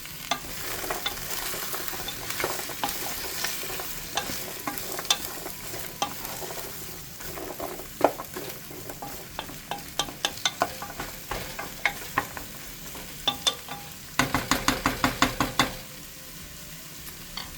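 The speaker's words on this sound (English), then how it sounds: "Give our vegetables a stir here." Vegetables stirred in a pot for tortellini soup, a steady sizzle broken by repeated scraping and clacking strokes of a spoon, close and clear, with a quick burst of stirring near the end.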